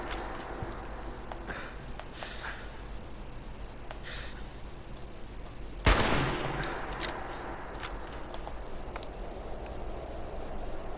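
Gunfire in Fallout 76 aimed at two distant turrets: one sharp, loud shot stands out midway over steady low ambient game noise, with faint fainter pops and clicks around it.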